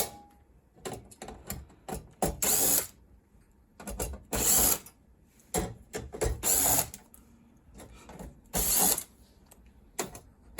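Torx 10 screws are backed out of a Compaq 286 luggable computer, with a motorised screwdriver whirring in several loud, close bursts separated by pauses and small clicking handling noises.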